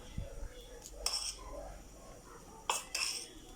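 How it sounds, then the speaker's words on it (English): A spoon scrapes and clinks against a pot while tinfish biryani with mint, dhania, butter and onion is stirred, in two short bursts of metallic knocks over a quiet kitchen background. "I'm going to give this a stir again"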